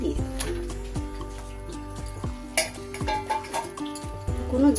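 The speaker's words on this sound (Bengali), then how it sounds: "এবার আমি এর মধ্যে পটলগুলো দিয়ে দেব" Fried pointed gourd pieces drop into boiling gravy in a pan, giving a few soft splashes and bubbling while a spoon scrapes and clinks against the metal.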